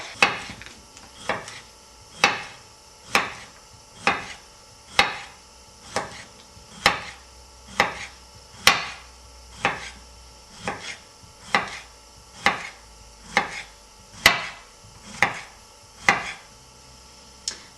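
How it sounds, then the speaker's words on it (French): Knife chopping courgettes into rounds on a cutting board, about twenty crisp, evenly paced knocks ringing close and clear with nothing else in between. "Maintenant, on coupe les courgettes"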